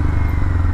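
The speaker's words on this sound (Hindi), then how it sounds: "पैक करके बस अभी बाइक स्टार्ट करके निकला हूँ मैं।" A motorbike engine runs loud and close, a dense rumbling drone with rough clattering texture, at a snowy forest campsite in the Uttarakhand mountains.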